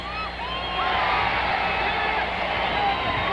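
Basketball arena crowd roars and whistles loudly during a 1984 Pistons–Bullets free throw, a dense, sustained swell of cheering with a commentator speaking over it.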